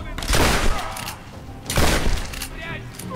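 A shotgun loaded with incendiary rounds fires in the video game Tomb Raider 2013, two heavy booming blasts with crackling, fiery tails, close and loud over rumbling game ambience.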